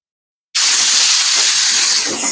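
Compressed air blasts debris out in one sudden, loud, continuous hissing burst that starts abruptly and holds steady to the end, with no voices.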